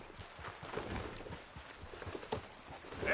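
Horse hooves clip-clop at an easy walking pace in a Red Dead Redemption 2 video game. The steady, even beats sound close and fairly soft.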